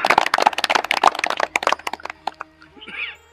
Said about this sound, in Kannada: ಒಂದು ಸಲ ಜೋರಾಗಿ ನಾವು ಚಪ್ಪಾಳೆ ಹಾಕಿ